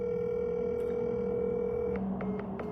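A telephone line tone sounds while a call is placed, a steady continuous hum in the earpiece, with a few faint clicks near the end.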